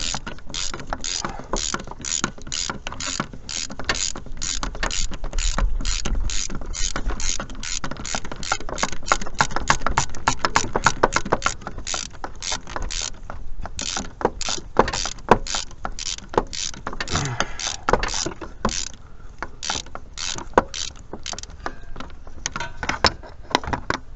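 A flex-head ratchet wrench works engine bolts loose through the pulley on a junkyard 1996 Jeep V8, producing a long run of rapid, close ratcheting clicks with a few louder knocks.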